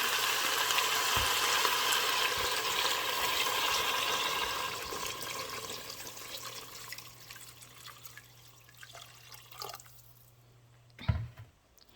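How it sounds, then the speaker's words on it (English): Water pours steadily into a cooking pot over beef for eru soup, with a rushing, splashing sound that gradually thins out, ending with a few knocks and drips. "Now I pour my water to go above my beef"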